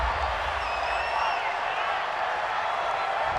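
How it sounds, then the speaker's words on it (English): Home crowd in Madden NFL 20 roaring steadily after a penalty call at a Carolina Panthers at Arizona Cardinals game, a broad continuous wash of cheering that stays loud and even throughout. "This home crowd, they're happy with that call."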